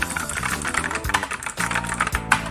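Rapid keystrokes on a MANIC X50 optical-switch keyboard, its clicky tone close to a blue mechanical switch, come as a dense, uneven run of close, sharp clacks with a couple of brief pauses.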